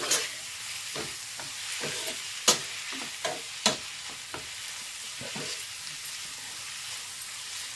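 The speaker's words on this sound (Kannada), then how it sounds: "ಹಾಗೆ ಇದಕ್ಕೆ ಅರಿಶಿನ ಪುಡಿ ಸ್ವಲ್ಪ ನೀಟಾಗಿ ಮಿಕ್ಸ್ ಮಾಡ್ಕೊಳ್ಳಿ. ಸ್ವಲ್ಪ ಫ್ರೈ ಆಗಲಿ." Turmeric powder mixed into a frying mixture for a yogurt gojju, giving a steady sizzle with a dozen or so sharp spoon-against-pan scrapes and clicks scattered irregularly throughout, close and moderately loud, no voices.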